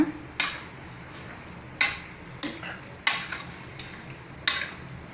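Turmeric being stirred into a pot of intestine (kudal) curry, a series of sharp, separate spoon scrapes and clinks against the pan at irregular intervals over a quiet background.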